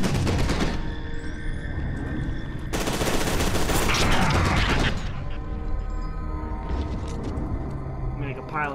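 Gunfire in the shooter video game F.E.A.R. 2, loud bursts of automatic fire and booming shots in rapid clusters with brief pauses, with someone talking over it.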